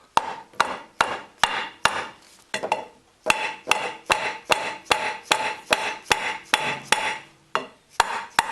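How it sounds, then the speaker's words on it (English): A hammer taps on a metal part from a John Deere snow blower clamped in a vise, about fifteen sharp, ringing strikes in a steady rhythm with a short pause partway through, close and loud. "Put it in a vise and then tap."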